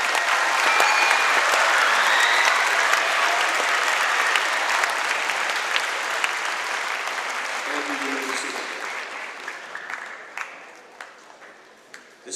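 An audience at a high school academic assembly applauds students, loud sustained clapping from a large crowd in a hall that slowly thins and fades toward the end, with a few scattered claps and a brief voice near the close.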